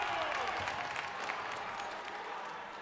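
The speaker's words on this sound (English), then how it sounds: "I'm going to let you hear this crowd" Crowd cheering and clapping at a Streetsboro vs. Woodridge boys' varsity high school basketball game in a gym, a steady broad roar that slowly fades as the crowd settles down.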